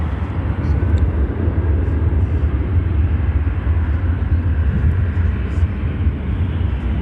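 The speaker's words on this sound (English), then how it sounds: "And British Airways is coming over to 9 Central." A British Airways airliner flying over at Chicago O'Hare airport, a steady, broad jet roar with a deep low rumble that holds at constant loudness for the whole stretch.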